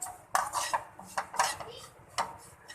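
A metal spoon scrapes and clinks against a pan while stuffed okra (bharwa bhindi) is stirred with dry masala over a low flame, giving irregular sharp taps and scrapes with quiet pauses between them.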